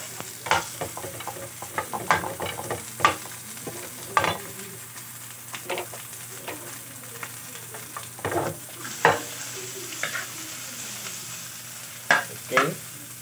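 Onions and garlic sautéing in a pan, with steady frying sizzle punctuated by frequent scraping stirs and utensil knocks throughout, close and moderately loud, no talking.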